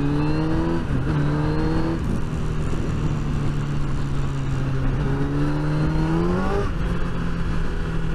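A Kawasaki ZX10R sport motorcycle accelerates hard, its engine whine climbing steeply through the gears with brief dips at each shift, loud and continuous against steady wind rush.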